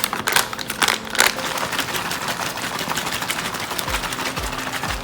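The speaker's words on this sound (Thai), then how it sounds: "จากนั้นก็ขยำให้เข้ากันนะครับ" A US military MRE drink pouch filled with water and powder is kneaded by hand, giving rapid crinkling plastic rustles and soft sloshing, close up and steady with no talk.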